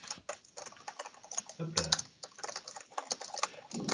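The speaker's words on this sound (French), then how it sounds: "Il y a quelqu'un qui a un super clavier mécanique, genre Denis." Rapid clicking of keys on a mechanical computer keyboard, dense irregular taps with brief pauses, close and fairly quiet, with faint voices in the background during an online meetup.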